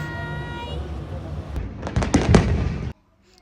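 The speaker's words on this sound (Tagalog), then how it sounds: "Ngayong Ramadan, may fireworks din sa Alsif." Distant Ramadan fireworks in Dubai bursting in a quick cluster of sharp pops and booms over a low background hum, rising to a loud volley before cutting off.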